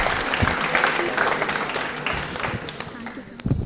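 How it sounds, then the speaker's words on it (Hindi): A studio audience on a Doordarshan television programme claps steadily for two participants, a dense wash of many hands with voices mixed in. "तालियां बजाइए इन दोनों के लिए"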